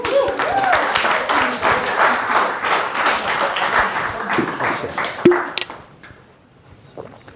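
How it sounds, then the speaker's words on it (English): Applause for a shy volunteer called up at a social media workshop, with brisk clapping from a small audience over scattered chatter, ending in a sharp knock before the room falls quiet. "Round of applause for Chi."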